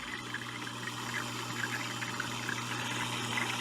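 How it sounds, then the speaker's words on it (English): An Odyssea Clean 100 surface skimmer aquarium filter runs with a steady trickling, bubbling water flow and a low pump hum underneath, continuous and close, with no talking. "It's blowing out bubbles from this side here."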